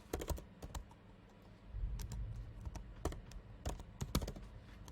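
Keys clatter on a computer keyboard as a domain name is typed in, with quick bursts of close, crisp taps separated by short pauses.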